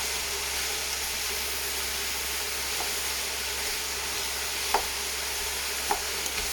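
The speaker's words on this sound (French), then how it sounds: "tu mélanges de manière à ce que les oignons ne restent pas au fond" Onions frying in a pan for a red cabbage dish, heard as a steady broadband sizzle with a couple of faint utensil scrapes toward the end, continuous and fairly loud throughout.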